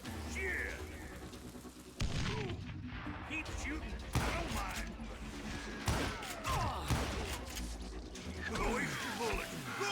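Video-game gunfire: repeated sharp shots and booms over a busy, continuous battle din, loud and close throughout.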